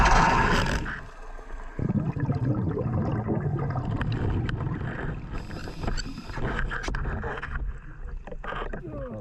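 A dive boat's engine runs at the surface, a steady low rumble with water sloshing close by, continuous and fairly loud throughout.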